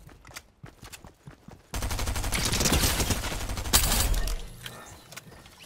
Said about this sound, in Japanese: 銃声の方、こっちかな